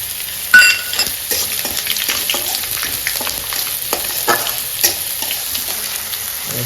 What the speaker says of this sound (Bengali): আমার তেল গরম হয়ে গেছে, আমি 4টে তেজপাতা দিয়ে দিচ্ছি, আর এই যে 5 ফোড়ন দিয়ে দিচ্ছি।